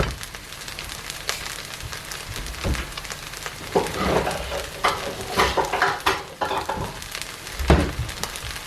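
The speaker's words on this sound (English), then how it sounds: "Just put it on the wok and then dish it out of the bowl." Home-made fried rice is scraped and scooped from a hot wok into a wooden bowl: irregular metallic scrapes and knocks over a faint lingering sizzle, close and fairly loud, with no talking.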